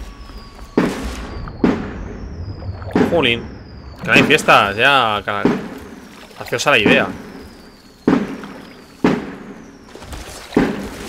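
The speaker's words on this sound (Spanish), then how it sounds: "Se oyen un montón, los petardos" Firecrackers go off outside as sharp, scattered bangs, several single cracks spaced apart at moderate distance, while someone talks in between and over them.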